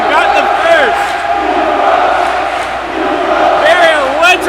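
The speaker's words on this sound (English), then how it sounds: "Very electric crowd here." Crowd at a Big Ten men's water polo match between Purdue and Michigan roars steadily in an indoor pool hall, with shouts and whistling rising above the continuous cheering throughout.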